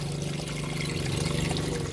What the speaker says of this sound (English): you see where the water's gushing out?